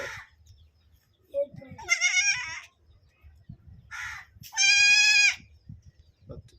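A newborn goat kid, born the day before, bleats from hunger in two loud, wavering calls, the second longer and stronger, separated by brief quiet with faint low background rumble.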